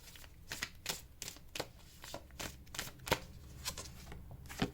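Tarot cards shuffled and drawn close up, a quiet run of crisp riffling flicks and soft slaps in an uneven rhythm, with no voices.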